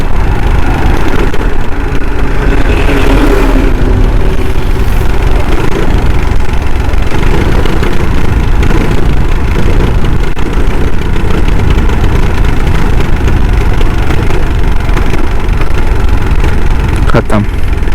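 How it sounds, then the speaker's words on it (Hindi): An engine running on E20 fuel with the accelerator held fully down, a loud, steady roar that continues without break across the whole stretch, with a voice talking over it. "देखिए पूरा एक्सीलेटर दबा के रखा हूँ, एक एक बार करके ले रहा है, अचानक से ले रहा है।"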